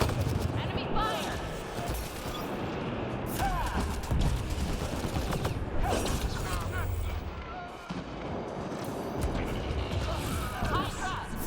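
Enemy gunfire crackles through a Mass Effect Andromeda multiplayer firefight, dense bursts and impacts layered continuously over explosions and combat noise, with a player voice talking over it.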